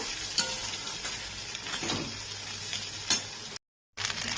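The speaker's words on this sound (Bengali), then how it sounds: "এর মধ্যে আমি পাস্তার মশলাটা দিয়ে দিলাম দিয়ে একটু নেড়ে নেব" Boiled pasta stirred with pasta masala in a pan gives a soft steady sizzle, with scraping strokes and a few light clinks of a utensil against the pan, quiet and close, and a brief dropout near the end.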